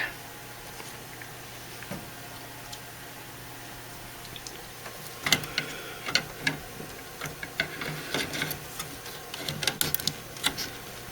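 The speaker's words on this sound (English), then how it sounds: "Okay, let's go ahead and load these into the printer." Quiet room tone, then a run of small plastic clicks, snaps and taps close by as a generic 950XL/951XL ink cartridge is pushed and seated into an HP OfficeJet Pro 276DW inkjet printer.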